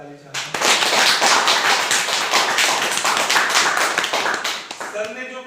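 Audience gives a loud, dense round of applause for a presenter after a business plan presentation, bursting in abruptly and holding strong for several seconds before fading as a voice returns at the end.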